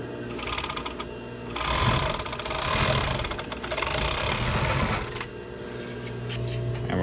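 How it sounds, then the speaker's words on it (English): An industrial overlock serger's clutch motor spins up and runs with a loud, steady mechanical whir and rattling hum, rising then holding fairly constant nearby. "When you start the motor on this, it sounds like a jet engine taking off."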